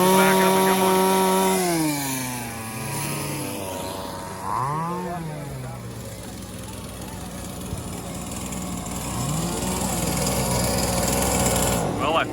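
Small two-stroke weed eater engines powering RC racing boats, a loud sustained buzzing whine with pitch rising and falling as the boats race and turn, continuous throughout.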